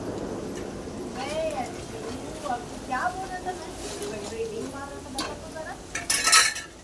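Sambar being stirred in a pot after chili powder goes in, with scraping and clinking of a spoon against the pot amid soft kitchen sizzle; a voice talks throughout, and a brief louder clatter comes near the end.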